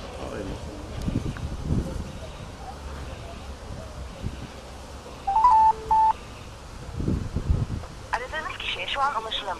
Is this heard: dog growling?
no